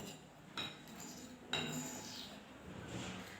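A spoon clinks twice against a bowl while mixing salt, cumin and spices, followed by quiet scraping; faint and close.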